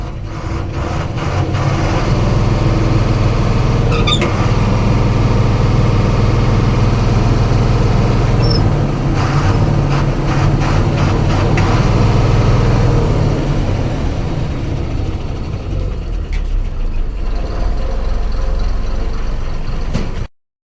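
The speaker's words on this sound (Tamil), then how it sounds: "வண்டியோட என்ஜின் கண்டிஷன் ஸ்டார்ட் பண்ணி காமிக்கிறேன் பாருங்கள்" A 2015 twelve-wheel lorry's diesel engine runs at idle, a loud, close, steady low rumble that holds for about twenty seconds before cutting off abruptly at the end.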